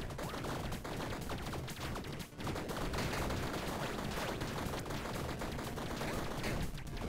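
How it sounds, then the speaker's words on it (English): Continuous rapid explosions and gunfire-like blasts from the video game Tiny Rogues, dense and unbroken, with a few brief dips in the barrage. "So many explosions"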